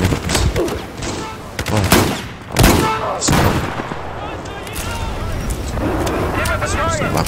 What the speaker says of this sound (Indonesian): Oh ada yang menembak.